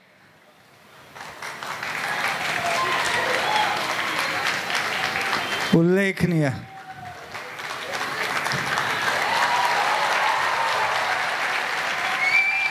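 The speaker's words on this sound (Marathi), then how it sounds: "टाळ्यांचा कडकडाट" Thunderous applause from an audience at a lecture-series honour event swells up and holds dense and loud, briefly interrupted by a short spoken word before the clapping resumes at full strength.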